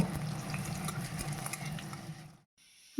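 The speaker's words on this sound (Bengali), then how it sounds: "সেই কুচিয়ে রাখা পেঁয়াজ দিয়ে দিলাম সমস্ত উপকরণ ভালোভাবে ভেজে নেব" Chopped onion with cardamom, cinnamon, bay leaves and sugar fries in hot oil, crackling and sizzling close by for about two seconds before falling quiet.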